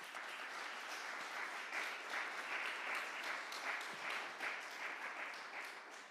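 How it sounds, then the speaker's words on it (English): Steady applause from an audience at a poetry evening, a continuous wash of many hands clapping at moderate distance, fairly quiet and sustained for several seconds with no speech. "I would like to invite us to give them a round of applause for what they're doing in our community."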